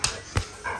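A pet dog gives a couple of short, muffled yelps or barks close by, with a faint whine trailing at the end over low room noise.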